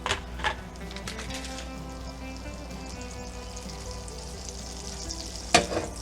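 Eggs frying in a pan while French toast is being made, a soft steady sizzle with a few clicks and a sharp scrape or tap near the end.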